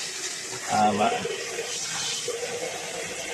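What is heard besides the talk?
water poured over hands while washing them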